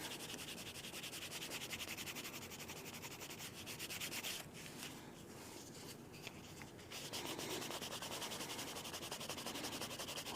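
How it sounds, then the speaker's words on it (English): Canvas rubbed briskly along the edge of a leather wrist cuff to burnish it, a steady dense friction hiss that runs almost unbroken, close and fairly loud, with no talking. "I'm just going to start burnishing with a piece of canvas."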